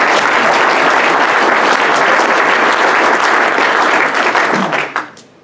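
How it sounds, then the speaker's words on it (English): A Rotary Club meeting audience breaks into loud, sustained applause, a thick roar of clapping that carries on steadily before stopping abruptly near the end. "Could everybody give the Oji's a round of applause"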